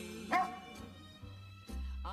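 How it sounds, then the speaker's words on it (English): A small dog barks loudly in short bursts, with a few separate yaps spaced across a couple of seconds, close by and with no talking. "Although my dog is small, his bark so loud he could deafen the roar of a football"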